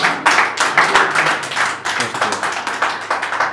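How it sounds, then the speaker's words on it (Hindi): A crowd claps in a steady, rhythmic beat, fairly loud and close, pulsing evenly throughout without any talking. "आपकी तालियां कमज़ोर पड़ रही हैं"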